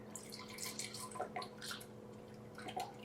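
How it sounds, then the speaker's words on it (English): Isopropyl alcohol trickles and splashes from a bottle into a measuring glass, a quiet, close liquid pour with light dripping and gurgling bursts, no talking. "We are going to start with the isopropyl alcohol. We need 3/4 of a cup. So we're going to pour that into our measuring glass here."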